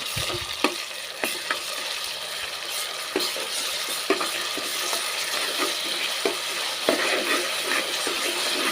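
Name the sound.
frying ginger garlic paste in a pan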